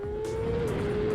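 A racing motorbike screams at full throttle on a track, a loud, sustained high engine whine rising slightly in pitch over a dense roaring background.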